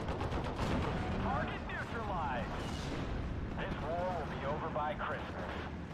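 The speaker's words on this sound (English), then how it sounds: "So here comes the artillery." Artillery and gunfire in the World War II strategy game Steel Division: Normandy 44, with a continuous rumbling barrage of distant booms and shots mixed under a voice talking throughout.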